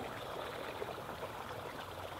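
River water flowing in a natural outdoor setting, a soft, steady, fairly faint rush that stays even from start to finish with no other distinct sounds.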